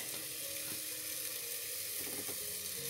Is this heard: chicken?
no